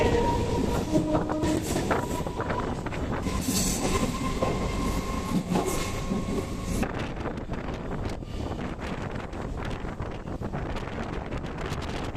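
A Hyderabad MMTS local train, number 47173 running from Lingampalli to Umdanagar, rumbles along steadily with clattering wheels, occasional squeals and wind buffeting the microphone.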